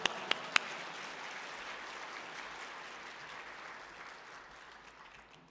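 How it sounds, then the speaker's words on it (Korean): Congregation at Sungdong Full Gospel Church applauding to welcome a pastor, a soft continuous patter of many hands after a few sharp early claps, gradually thinning toward the end. "박수로 환영하시겠습니다"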